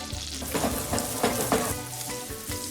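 Onion sweating in butter in a pan, a close, continuous sizzle and crackle with rhythmic stirring scrapes, no voices.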